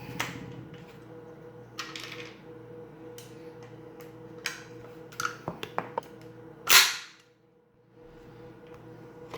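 A CZ Scorpion EVO 3 pistol is cycled by hand with dummy rounds, giving a few sharp metallic clicks and clacks and one louder snap of the action over a quiet room hum, with no talking.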